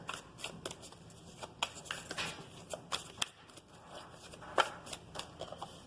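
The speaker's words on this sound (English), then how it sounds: "let's get some oracle cards here." Oracle cards shuffled by hand during a tarot-style reading, giving a run of soft, quick riffling and flicking bursts, close and fairly quiet, with no talking.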